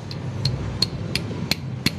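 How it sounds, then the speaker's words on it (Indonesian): Repeated sharp metallic taps on a CVT part of a Honda Beat FI scooter, struck to check for looseness, six evenly spaced knocks about every third of a second over a low workshop hum, close and fairly loud. "Kalau kita ketok, ini bunyi enggak."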